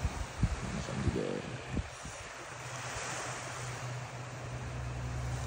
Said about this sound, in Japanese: 奥間ビーチで、海もめちゃくちゃ素敵ですね。